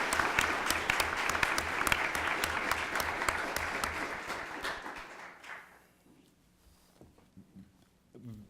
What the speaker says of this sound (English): I think you both deserve a round of applause from everybody here